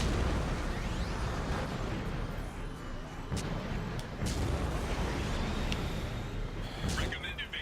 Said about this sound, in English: Geth cannon is locking on our location.